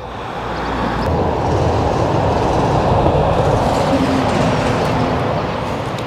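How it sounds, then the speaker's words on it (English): The Jacobite steam train in the Scottish Highlands approaching: a loud, steady rail rumble that swells as it nears, with faint wheel clatter and a thin squeal partway through, and no voices. "the train's literally on its way"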